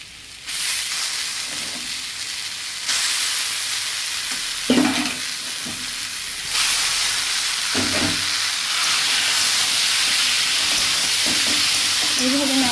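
Spice paste for a taro flower curry fries and sizzles loudly in a pan, a steady hiss with intermittent clinks and scrapes of stirring.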